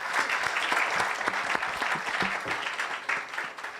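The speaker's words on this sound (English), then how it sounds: "Please, a round of applause for KMB." A crowd at a national science and maths quiz championship launch applauds a performer, KMB; steady, dense clapping from many people throughout, with a few sharper claps standing out near the end.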